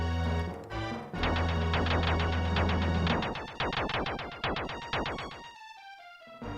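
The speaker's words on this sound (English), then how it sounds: "Neil would be the one who knows Morse code. It's a signal ships use to talk to each other" Rapid electronic beeps in Morse-code-like bursts from the Illusion of Gaia video game, a dense run of short tones that thins into a few sparser, separated beeps toward the end, with no talk.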